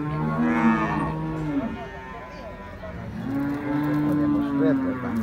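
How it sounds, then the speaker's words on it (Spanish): Cattle at a livestock market, a bull and cows, give long, deep moos, one lowing call early and another drawn-out bellow later, close and loud over faint crowd murmur. "Miren ese hermoso toro, están 25 dicen por esa vaca."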